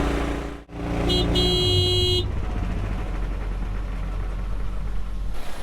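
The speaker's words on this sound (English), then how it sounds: "time for me to drive a truck" A farm truck engine runs at a steady idle, loud and close, with a short horn-like tone near the start before the engine settles into an even rumble, no talking.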